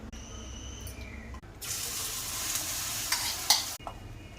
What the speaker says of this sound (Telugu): ఇలా ఆయిల్ వేయాలి. పెనం అంతా స్ప్రెడ్ అయ్యాలా ఆయిల్ రుద్దుకోవాలి.